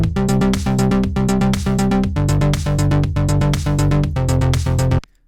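A synthwave bass line built in Logic Pro X plays an arpeggiated pattern of bright, punchy synth notes on the offbeat. The pulse is steady and loud for about five seconds, then stops abruptly.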